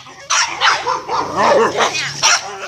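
A dog barks and yips several times in close succession, loud and near, with a whimpering edge between barks, on a farm.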